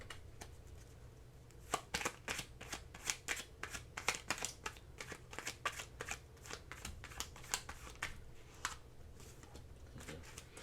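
A deck of oracle cards being shuffled by hand, with repeated crisp riffling bursts close up, running steadily through most of the stretch with brief pauses between shuffles.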